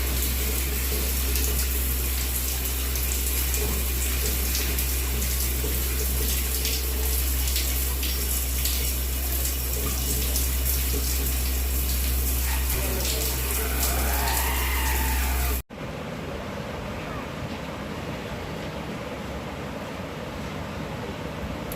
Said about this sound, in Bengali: চান করে পরিষ্কার পরিচ্ছন্ন জল দিলাম জল উল্টে ফেলে দিলাম